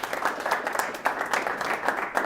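A class of students claps for a classmate in a short burst of fairly close, uneven clapping, moderately loud, with no talk over it.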